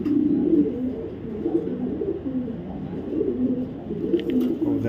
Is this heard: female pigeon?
yes